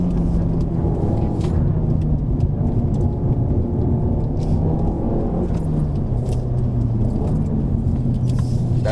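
A car engine growls steadily from inside the cabin during a heel-and-toe downshift from third to second, its pitch shifting as the revs are matched, with no talking over it.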